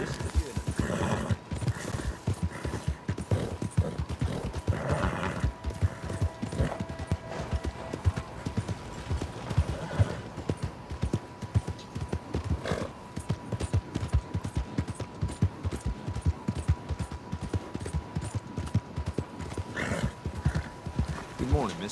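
Horse hooves clip-clopping on ground in the Red Dead Redemption 2 video game, a steady rhythmic trot close by with an occasional whinny, running under spoken voices and a faint tonal hum.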